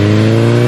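Cartoon motorbike engine revving loudly as it takes off into the sky, a short steady high rev with a strong buzzing tone, alone.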